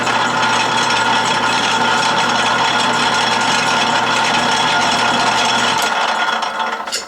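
A metal lathe without reverse runs in back gear at slow speed while a die is forced onto the work to cut a thread, giving a steady close mechanical whir with a grinding edge that cuts off abruptly near the end.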